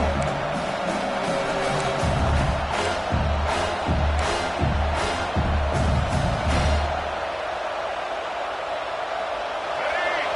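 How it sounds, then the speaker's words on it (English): A large video game stadium crowd at a college football game (NCAA 26) roars steadily throughout, with rhythmic bursts of cheering and stomping in the first part, fading to a broad wash of noise. "the crowd really making some noise now"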